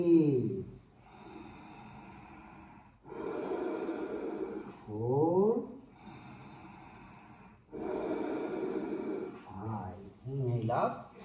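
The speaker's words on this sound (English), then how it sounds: "long deep breathing" Slow, deep yoga breaths alternate between long drawn inhales and audible exhales, close to the microphone, with a few breathy rasping pauses in between.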